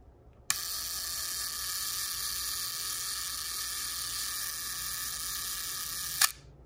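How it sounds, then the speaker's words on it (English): A sharp click sets off the self-timer of a Lubitel 2 medium format camera, which buzzes in a steady mechanical whir for nearly six seconds before ending in a crisp shutter snap, close and alone. "this camera also has a self-timer, which I think is pretty cool"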